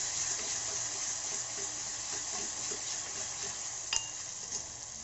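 Crushed green chili being stirred into onions frying in oil for a Gujarati spiny gourd curry, a steady close sizzle with soft scraping from the spoon and one sharp clink near the end.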